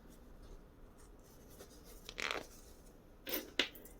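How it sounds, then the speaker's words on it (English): Old scissors nicking two teeth out of a zipper, two quick close snips about a second apart, faint above a quiet room with no talking. "So I just get my old pair of scissors and I just nick out 2 teeth."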